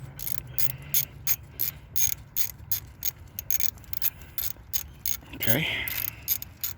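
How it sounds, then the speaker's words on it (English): Ratchet wrench loosening bolts on the alternator bracket of a 2003 Lincoln Town Car, a steady run of quick clicking pawl strokes close up, with a brief spoken word partway through. "I'm just undoing the bolts here on the bracket."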